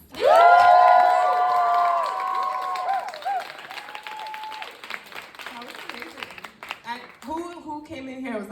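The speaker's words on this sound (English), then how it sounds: "Clap it up for Denice." A theater audience at a post-show talkback bursts into loud cheering and applause for a performer, voices swelling at first and then giving way to ongoing clapping and lively crowd murmur.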